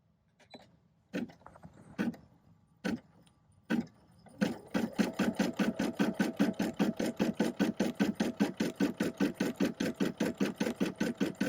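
A Brother PE 550d embroidery machine: a few separate mechanical clunks, then a steady fast rhythmic chatter of stitching, close and moderately quiet, with no talking.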